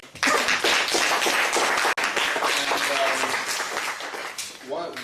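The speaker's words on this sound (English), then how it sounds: "I want to give them a round of applause once again." Audience gives a round of applause at a young professionals talk, a dense burst of clapping with a brief break partway, under faint voices, tapering as it ends.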